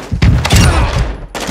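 Gunfire in Warzone 2.0 rings out in a loud, close burst of several rapid shots, followed by another sharp shot at the end.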